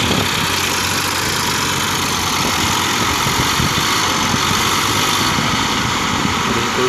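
A Farmtrac 60 Supermax tractor engine drones steadily under load as it strains to pull a stuck rotavator through soil in a farm field, a continuous low rumble with no pauses.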